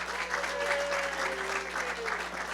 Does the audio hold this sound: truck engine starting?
no